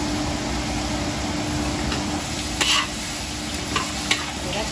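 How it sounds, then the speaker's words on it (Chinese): Pig's trotters stir-fried with ginger and oyster sauce in a wok: continuous loud hissing sizzle with occasional scraping stirs and small spatters, close up and without talk. "给它炒香，炒入味啊！"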